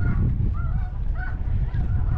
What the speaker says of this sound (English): There's a shit ton of birds up there too.